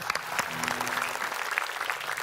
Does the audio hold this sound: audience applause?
yes